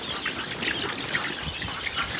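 Chicks on an open farm chirp and cluck in a busy, continuous chorus with bits of wing flapping, close by and without any talk.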